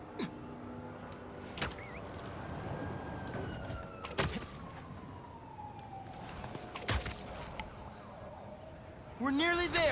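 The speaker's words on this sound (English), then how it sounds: "There's an ambulance not too far away." An ambulance siren wails in the Spider-Man 2 video game, a long gliding tone in the distance beneath game effects and sharp impact sounds, with voices speaking briefly.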